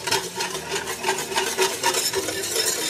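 Flour being stirred into hot melted butter and oil for a plant-based gumbo roux, a steady scraping stir over a soft continuous sizzle, close and fairly loud throughout with no talking.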